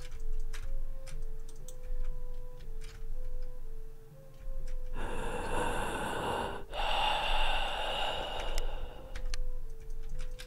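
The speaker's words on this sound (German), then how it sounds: "Warum atmet der hier so komisch?" Strange, heavy breathing comes from a Japanese horror video game (Inugami) over a soft ticking clock, with a loud rasping breathy passage in the middle and quieter ticks and tones around it.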